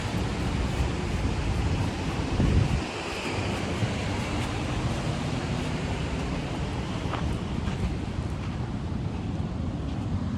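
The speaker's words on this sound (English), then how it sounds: "I don't know if you can hear me over the waves." Ocean waves wash onto the shore along the Pacific coast near Fort Bragg, a steady broad roar with buffeting wind noise on the microphone and a brief louder gust early on, no voices.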